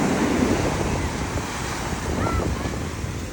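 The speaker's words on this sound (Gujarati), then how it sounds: "આટલો વજનદાર પથ્થર હે તો એને દરિયો ખેંચીને લઈ જાય" Sea surf at Dwarka washes over a stony shore and drags heavy stones back with the backwash, a steady, loud roar of breaking water and wind with no talking.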